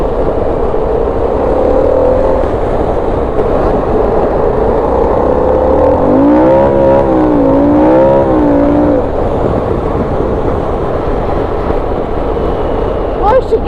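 Harley-Davidson Sportster S motorcycle accelerating hard, a loud continuous engine note rising and falling through a short revving surge midway, with steady wind roar throughout and voices talking over it.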